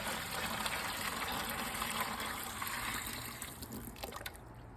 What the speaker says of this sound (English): So in goes the warm water.